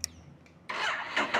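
A Ducati Multistrada V2S motorcycle engine cranks with a brief starter whir, then catches into a loud, rough, close-up rumble.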